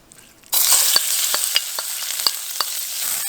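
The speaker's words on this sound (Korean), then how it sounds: "김치가 어느 정도 볶아진 것 같거든요" Squeezed kimchi hits hot oil in a pan with a sudden loud sizzle that holds steady, broken by several sharp scrapes and taps of stirring.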